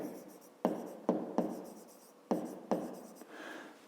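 Pen strokes scratch across paper as numbers are written by hand during a fifth-grade maths exercise, a series of short sharp scribbles with small gaps, close and fairly quiet with no voices.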